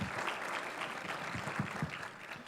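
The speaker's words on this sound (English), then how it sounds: "So give yourselves a round of applause." Applause from the crowd at a Democratic party caucus, steady mid-level clapping from many hands filling the short span without pause.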